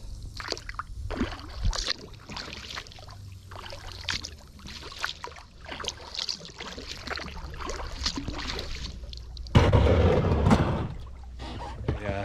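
A kayak is handled and nosed into the corner of a boat ramp, making hollow knocks and water sloshing under continuous talking, with a louder scraping surge near the end.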